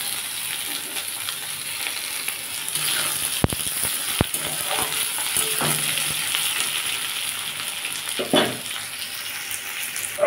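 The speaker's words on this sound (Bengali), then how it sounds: "পটলটা লাল লাল করে ভেজে নেব" Pointed gourd (potol) frying in hot oil for a Bengali curry, a steady close crackling sizzle throughout with a few sharp clicks and brief stirring scrapes, no voices.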